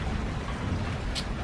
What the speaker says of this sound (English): I really like the rain.